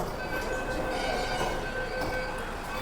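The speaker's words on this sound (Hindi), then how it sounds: "और हम स्टेशन आ गए जाफराबाद।" A Delhi Metro Pink Line train pulls into Jafrabad station with a steady, loud rumble and a thin whine that holds throughout, heard from inside the moving car.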